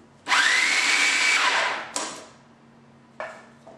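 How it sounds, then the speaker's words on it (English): An electric mixer blends vegan cream cheese icing for vanilla cupcakes with a loud, steady whirring run that stops abruptly, followed by two shorter bursts of mixing. "You want to keep mixing the icing until it's finely blended and you can't see any more chunks of powdered sugar."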